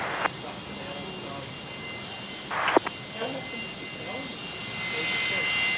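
Velocity flight 352 at Brisbane Airport, heard as a steady distant aircraft engine roar underneath a voice talking, with a few brief bumps and a clicky burst partway through.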